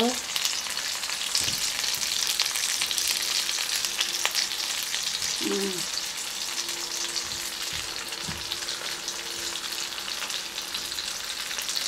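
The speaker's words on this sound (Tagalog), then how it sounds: "Para po tumiktik yung kanyang oil." Shrimp and smoked fish balls fry in hot oil, giving a steady, even sizzle throughout with a few faint clinks of a utensil, and no talking over it.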